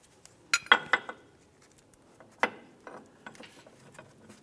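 Sharp metallic clicks and clinks sound as a ball joint press is tightened on a 2002-2005 Ford Explorer's upper control arm, a few close irregular ratcheting taps over a quiet background.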